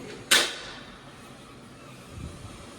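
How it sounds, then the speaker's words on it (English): A black lever for the up refuge points is pushed in a railway signal box, giving one sharp, loud clack followed by a faint low thump and near silence. "Push the black lever marked up refuge points away from you."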